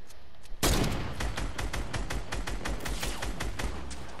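Rapid bursts of gunfire in Fortnite, beginning with a loud close shot and followed by a fast stream of crackling shots, with no talking over them.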